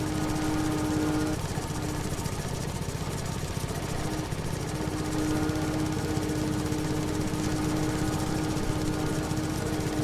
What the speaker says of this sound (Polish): słyszycie jak się dławi kosiarka?